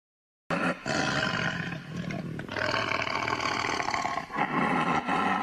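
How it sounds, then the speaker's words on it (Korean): A calf-sized leopard that has come down from the mountain behind a village roars loudly and without a break for about five seconds, after a brief silence. The roar is deep and rough, fills the whole sound, and has no voices over it. "표범의 포효에 온 마을이 떨었습니다."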